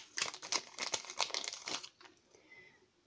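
Small plastic sachets holding paper die cuts crinkle and rustle as they are handled up close, a busy run of crackling for about two seconds before it fades to near quiet.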